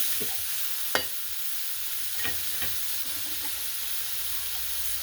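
Mackerel stir-fried in a pan with garlic and chilli after a splash of water, giving a steady soft sizzle and hiss with a few sharp scrapes and clinks of the spatula against the pan.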